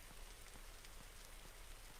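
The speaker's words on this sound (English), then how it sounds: "Which right now, raining with thunderstorm is what's happening." Steady rain falls in a video game weather system during a thunderstorm, a dense continuous patter of drops on surfaces, even and fairly quiet throughout with no thunder clap standing out.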